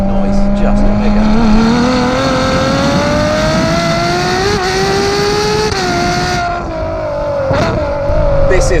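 A 2017 Ferrari 812 Superfast's big V12 engine revs hard and loud, its tone climbing steadily as it pulls, a dense, close roar with a brief dip near the end before surging again.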